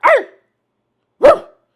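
A person imitates a dog to set off a bark collar, giving two loud, sharp, close barks about a second apart with silence between.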